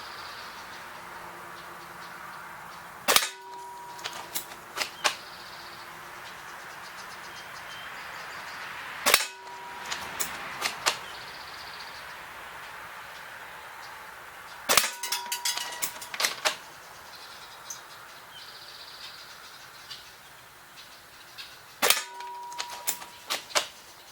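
An ASG Accuracy International AW .308 airsoft sniper rifle fires four sharp, close shots several seconds apart, each followed by metallic clicks and clacks of bolt cycling against a quiet background.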